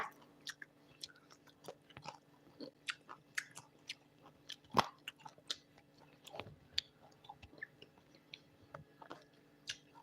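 Someone eats a meal of fresh shrimp paste chili dip with boiled bamboo shoots, blanched vegetables and large fried fish, with close, quiet, irregular chewing, biting and crunching clicks against a soft background hum.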